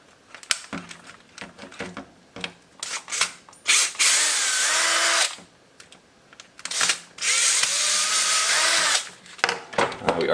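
Power screwdriver or drill backing out Phillips screws from the license plate light on a KTM 390 Duke rear fender, with two long whirring bursts plus shorter buzzes and clicks of handling, close and loud.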